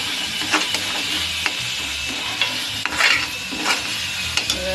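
Masala with salt and mint fries in oil in a pan, a steady close sizzle broken by repeated scraping stirs of a utensil against the pan, with no talking.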